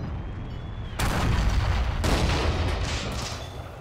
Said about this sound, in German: A 3-inch mortar.